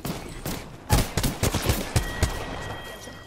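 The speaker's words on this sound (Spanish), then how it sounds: "Estoy recibiendo disparos" Rapid bursts of Apex Legends gunfire, several sharp shots in quick succession with a faint electronic hum beneath, fairly close and loud.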